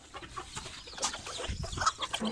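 Chickens in a coop clucking and calling while pecking at scattered rice in feed and meal, a busy cluster of soft, close clucks with occasional sharper calls, no talk.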